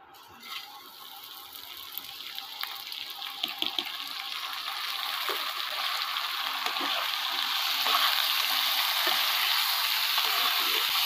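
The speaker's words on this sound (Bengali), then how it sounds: "চাল ডালটা আমাদের ভালোভাবে ভেজে নিতে হবে" Gobindobhog rice and dal with cinnamon toast in a pan for bhuna khichuri, a soft frying hiss building gradually louder, dotted with light rattling grains and scraping of a stirring spoon.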